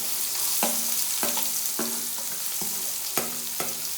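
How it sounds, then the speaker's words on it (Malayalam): Chopped onion hits hot oil in a pan, sizzling steadily, with a series of sharp stirring scrapes and clicks repeating roughly every half second over the frying hiss. "ഇതിലേക്ക് നമുക്ക് അരിഞ്ഞു വെച്ചിരിക്കുന്ന സവാള ഇട്ട് കൊടുക്കാം"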